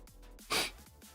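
A single sharp sneeze bursts out in the middle, loud and close, with quieter breathing and sniffles around it.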